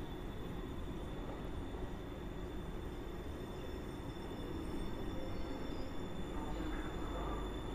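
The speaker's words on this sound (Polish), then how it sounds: "w cały świat jeżdżą te pociągi na linii S1" Trains run through Warszawa Zachodnia station in Warsaw on line S1 after dark, a steady rumble of rolling railcars with faint wheel squeal and a high whine, heard without any voices.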